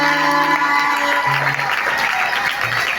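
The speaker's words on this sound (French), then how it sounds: "Acclamez très fort." A church congregation at a prayer service applauds loudly and continuously, a dense wash of close clapping that runs the whole time, with a few sustained tones and voices faintly under it.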